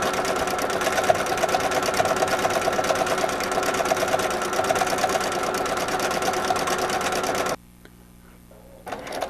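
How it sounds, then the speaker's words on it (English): Continuous fast rhythmic whirring of a sewing machine overstitching a scallop on a zipper pouch, close and steady, then stopping abruptly near the end with a faint click. "now I'm going to make this little scallop, and I'm going to overstitch"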